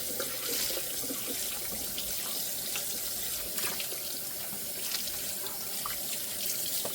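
Water runs steadily from a kitchen faucet into a sink while a small batch of dishes, including a platter, is washed by hand, with continuous splashing and occasional clinks close by.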